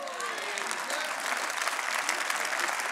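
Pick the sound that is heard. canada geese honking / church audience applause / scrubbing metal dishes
church audience applause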